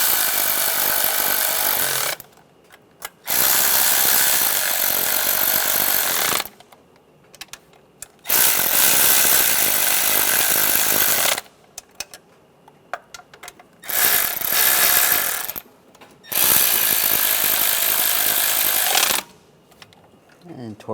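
A ratchet tightens knock sensor bolts on a 1996-2002 Toyota 4Runner engine, four or five long, loud bursts of fast clicking separated by short pauses.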